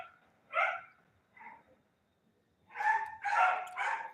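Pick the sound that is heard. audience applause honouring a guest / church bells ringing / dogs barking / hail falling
dogs barking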